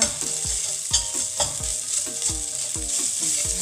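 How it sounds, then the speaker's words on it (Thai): Garlic, coriander root and pepper paste stir-fried in a hot pan for pork belly stewed with eggs, with a steady sizzle and regular scraping strokes of the spatula about every half second, close and alone. "เดี๋ยวเราจะผัดสักเล็กน้อยนะคะ ให้เขา หอมกว่านี้นะคะ"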